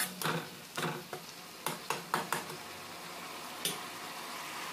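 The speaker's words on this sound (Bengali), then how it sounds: "জল দিয়ে ভালো করে এইভাবে নাড়াচাড়া করে মশলাটাকে তৈরি করতে হবে" A spoon stirring spice paste thinned with water in a pan, with a series of sharp scrapes and taps against the metal over a soft, continuous sizzle.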